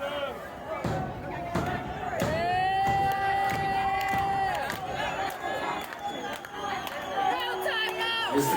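A crowd at a pro wrestling event cheers and shouts steadily, with thuds from the ring and sustained yelling voices over it, while a commentator talks.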